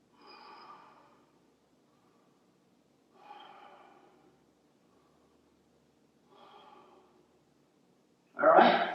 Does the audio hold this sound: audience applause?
no